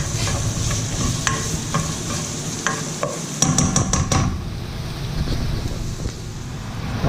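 Garlic is sautéed in a pan, with a constant close sizzle and scattered spatula scrapes and clinks, including a quick burst of clatter partway through.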